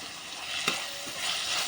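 Tomatoes frying in a pan for a village-style prawn and raw mango curry, a short steady sizzle with a single sharp stirring tap, no talk.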